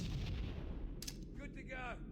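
Gunfire in the video game Halo: Combat Evolved, with a dense burst of loud, close shots at the start and then a sharp crack partway through, followed by electronic whirring weapon tones.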